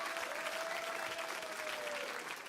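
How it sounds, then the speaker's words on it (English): A crowd's round of applause for a young martial arts student named Jack at a launch event, steady dense clapping filling the whole stretch, with a faint tone running through it. "massive round of applause"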